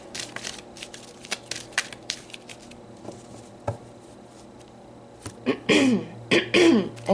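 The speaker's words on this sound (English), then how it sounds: "here I'm clearing my throat through your guys' reading" A person clears their throat with scattered small clicks and taps early on, then several close, rough throat-clearing bursts in quick succession toward the end.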